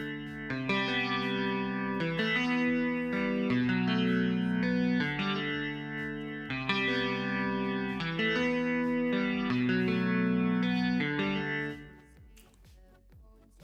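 Pop punk guitar melody played through the Guitar Rig plugin in FL Studio, a loud, driven, chorus-tinged lead repeating the same phrase in steady bars with no talking over it.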